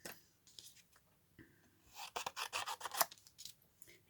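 Scissors cutting out a paper cherry shape, with soft rasping snips that start sparse and grow into a quick run of close, crisp cuts, no voices.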